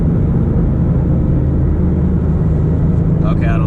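A V6 Mustang in first gear, its engine a loud, steady low rumble throughout with a rattling texture, plus a brief higher-pitched sound near the end.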